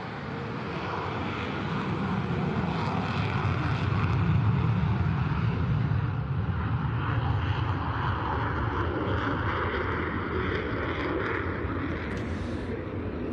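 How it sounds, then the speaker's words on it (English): A Finnish Air Force Boeing F/A-18C Hornet jet takes off down an airport's main runway during NATO Days 2022, a steady, loud, broad engine roar sustained throughout without speech. "The F/A-18 getting airborne down the airport's main runway"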